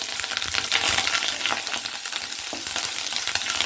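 Fresh curry leaves sizzle and crackle loudly in hot oil in a home kitchen, a dense, continuous spitting hiss with small pops throughout.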